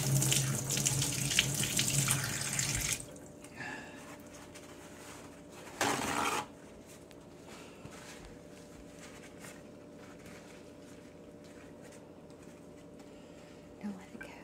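A faucet runs loudly at the start while a glue-stuck bird's legs and feathers are washed with dish soap, then cuts off, followed by a brief second splash and quiet room sound with soft voices.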